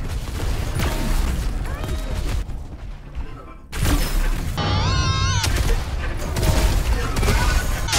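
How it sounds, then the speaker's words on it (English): A shotgun fires in a video game amid a dense, loud barrage of blasts and crashing impacts. There is a brief lull in the middle, then the chaotic gunfire and whining effects resume close up. "Just gotta hit him with my shotgun."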